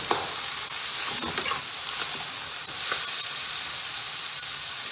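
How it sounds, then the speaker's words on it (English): Food for a red stew sizzles and spits in hot vegetable oil with a steady hissing crackle, occasional stirring scrapes breaking through, and no voices. "We're going to start frying this."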